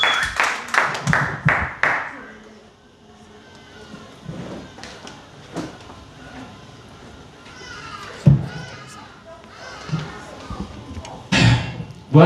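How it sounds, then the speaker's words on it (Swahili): Church congregation claps and applauds as a preacher comes up, bursts of clapping loudest at the start and again near the end, with scattered thumps and crowd murmur between. "Piga makofi mazuri anapokuja katika jina la Yesu Kristo"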